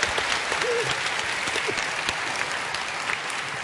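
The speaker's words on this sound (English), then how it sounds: "a big round of applause for Dinnerbone." A crowd at a Minecon 2013 Redstone panel in Orlando claps steadily and loudly throughout, a dense sustained round of applause with a brief cheer near the start.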